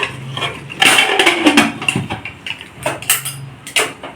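A metal lid is set onto a pot of chicken biryani: several close, sharp clanks and scrapes of metal on metal, in irregular bursts with brief pauses between.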